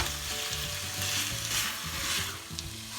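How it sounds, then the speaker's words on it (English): Potatoes and tinda cook in masala paste in a pan, giving a soft, continuous sizzle with light stirring scrapes, close and fairly quiet, with no voices. "Next I'm going to add these potatoes and tindas to this paste and mix it well. Just cook them for the next 2 to 3 minutes in this masala."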